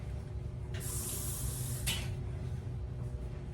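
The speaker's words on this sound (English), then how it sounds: "Let me rinse my hand off." Water from a kitchen tap runs briefly in a hiss over a hand being rinsed during pickle making, a burst of about one second under a steady low background hum.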